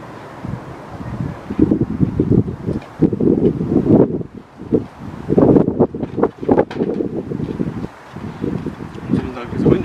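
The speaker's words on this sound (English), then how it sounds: "Seems like it's a windy day today." Gusty outdoor wind buffets the microphone in loud, uneven rushes that swell and drop, with brief lulls between the blasts.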